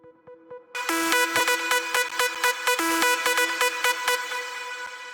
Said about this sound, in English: Jalmaan started first by sending the arps and the chord progression,